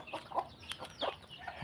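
Hen with her brood of six chicks clucking while feeding, several short soft clucks and peeps at intervals, close by with no talk.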